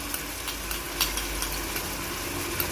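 Masala frying in a pan as green chillies are added for a chicken bread filling, a steady close sizzle with faint crackles and small stirring clicks throughout, no one talking.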